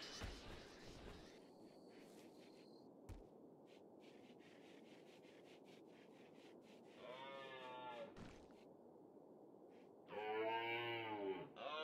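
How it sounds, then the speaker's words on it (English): A kangaroo in the video game RimWorld lets out two cow-like moos, one around the middle and a louder one near the end, over a steady background hum of game noise. "Why does it sound like a cow?"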